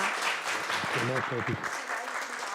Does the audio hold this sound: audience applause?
yes